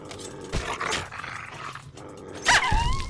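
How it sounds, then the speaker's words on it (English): Dogs barking and growling in the video game Fallout: New Vegas, with a couple of sharp, close barks about two seconds apart and low growling between them. "So they left the dogs behind."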